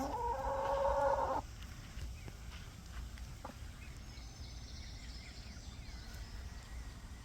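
A chicken's loud, busy clucking bursts out at the start, then drops away to a quiet garden background with faint scattered noises.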